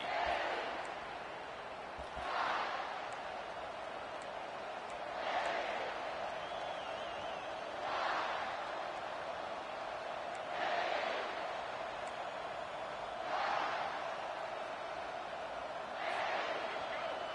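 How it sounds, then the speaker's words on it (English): A stadium crowd in the NCAA 25 college football video game roars in steady waves, swelling every couple of seconds over a constant distant hum, moderately faint and without clear talk. "This crowd, full throat, splitting the eardrums"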